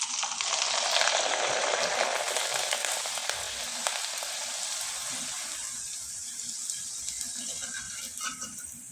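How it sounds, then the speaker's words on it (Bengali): Light rice-flour flower pitha deep-frying in oil on low heat, a loud, dense sizzling hiss close by that slowly eases and thins out over several seconds. "একইভাবে আমি অনেক কয়েকটা পিঠাই আপনাদের ভেজে দেখিয়ে দিলাম"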